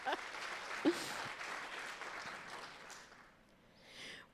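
Audience at a charity fundraiser breakfast applauding, a soft spread of clapping across the room that thins and fades toward the end.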